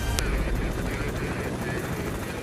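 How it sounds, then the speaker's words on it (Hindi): Indian Army Aviation Corps Chetak helicopters, light and fast machines, give off a loud, steady rotor and engine roar that fills the whole short stretch without a break. "भारतीय सेना के एविएशन कोर के चेतक हेलीकॉप्टर्स बड़े ही हल्के और तेज होते हैं।"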